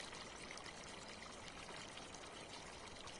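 On a farm, running water trickles and pours without pause, a close, uniform hiss of splashing that fills the whole stretch with no speech.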